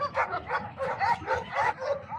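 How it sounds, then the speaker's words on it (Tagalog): A very large dog, one of several at a kennel, barks in a rhythmic run of loud, close yips and bow-wows with a whimpering edge, repeating roughly every half second. "Napakalaking aso."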